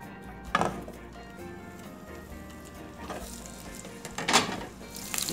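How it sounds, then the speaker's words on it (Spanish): Garlic and onion fry in a pot with a soft continuous sizzle, punctuated by a few louder scraping stirs of a utensil against the pot, no voices. "en la misma cacerola vamos a sofreír el ajo y la cebolla"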